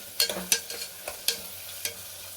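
Onions with a little salt fry in a pan for menthya bath as a spatula stirs, giving a few quick scraping clicks close by over a light sizzle.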